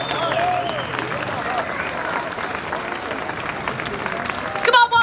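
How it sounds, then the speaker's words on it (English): Audience applause and cheering at Liverpool Comic Con for guests Dean Cain and Teri Hatcher, a steady crowd roar lasting throughout with voices mixed in and a burst of louder sound near the end. "Come on, one last cheer, everybody."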